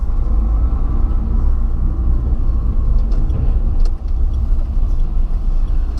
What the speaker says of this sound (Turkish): D konumuna aldım ve yola çıktım.